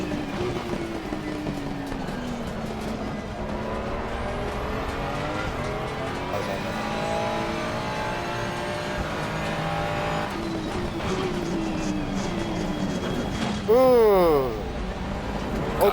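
Race cars in Assetto Corsa Competizione roar through a braking zone and turn, engine pitch falling and rising with gear changes and a sharp tire squeal near the end, loud and continuous.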